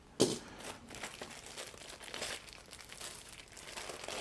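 Crinkly plastic wrapping on a board game rule book is sliced and torn open, a sharp crunch at the start followed by a few seconds of continuous rustling and crackling close by.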